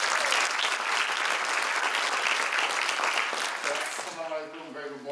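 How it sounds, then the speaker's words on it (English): Loud audience applause during welcome remarks at a conference, thick continuous clapping that tapers off toward the end as a voice begins speaking. "I'd like to give a round of applause to Mr."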